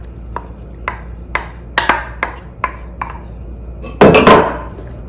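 About six eggs are mixed in a bowl with a utensil, making a series of evenly spaced, sharp taps and clinks, then a louder scraping burst toward the end.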